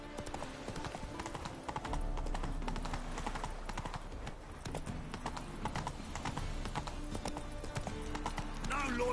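Horse hooves gallop at a steady, rhythmic clip-clop in Witcher 3 gameplay, close and fairly loud, with game music and ambient sound layered beneath and a brief whinny near the end.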